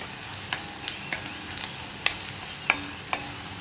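Sliced onions sautéing in oil for a green bean stir-fry, a soft steady sizzle broken by a handful of sharp spatula scrapes and taps at uneven intervals, close and moderately quiet.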